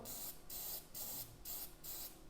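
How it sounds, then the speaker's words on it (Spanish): An aerosol spray can fires in five short hissing bursts with brief gaps between them, close by, while it is tested for sealing a graphite drawing before painting. "Probamos nuestro aerosol."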